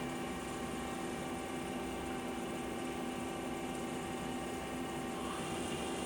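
Spindle of a 2007 Okuma Captain L370 big-bore CNC lathe running at 1000 RPM, a constant close mechanical hum and whine with steady tonal layers and no change in level, unaccompanied by speech.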